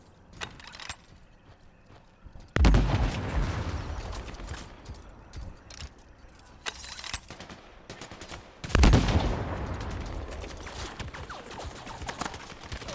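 Sniper rifle fire in the video game Anthem: two loud, sharp shots several seconds apart, each trailing into a long rumbling decay amid mechanical game noise and softer background effects.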